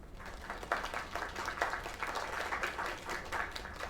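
Crowd applause in the game LAKE, a steady wash of many hands clapping, fairly distant and even in level, with small swells throughout and no voices.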